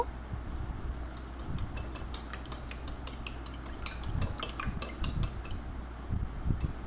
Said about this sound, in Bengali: এবার একটা বাটিতে ডিম ফাটিয়ে নিচ্ছি। পরিমাণ মতো নুন দিয়ে ডিমটাকে একটু ফাটিয়ে নেব।